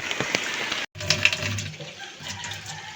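Malabar spinach leaves are washed under running water, making a loud, close, continuous splash and gush. The flow cuts out briefly near the start, then resumes.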